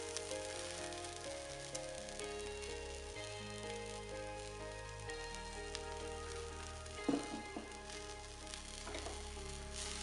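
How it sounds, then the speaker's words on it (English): Leftover rice with methi sprouts frying in a pan gives a faint, steady sizzle, like light rain, under a low background hum, with a few soft clicks of stirring. "fry along with the rice the methi sprouts and give it a good stir"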